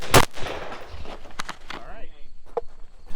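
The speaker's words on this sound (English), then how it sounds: "And the final rifle shot's right here." A single rifle shot at a two-gun shooting match rings out sharply near the start, followed by a few metallic clangs of steel targets and shuffling movement, with a voice faintly in the background.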